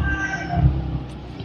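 A cat meows once, loud and close, a short drawn-out cry over low room noise in a home.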